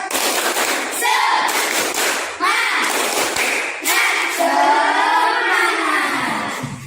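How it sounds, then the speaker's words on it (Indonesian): A classroom of children doing the rhythmic 'tepuk semangat' spirit clap, loud bursts of patterned clapping mixed with shouted chanting voices, repeated in several close phrases. "Tepuk semangat"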